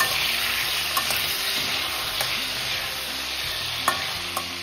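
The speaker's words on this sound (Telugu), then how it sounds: "ఈ తరుక్కున్న వంకాయలు వేసుకున్నాం. కొద్దిగా ఉప్పు, ఇది ఒకసారి కలుపుకుని" Chopped brinjal with a little salt is stirred in oil in a kadai, with a steady close sizzle of frying and occasional scrapes and knocks of the spoon against the pan.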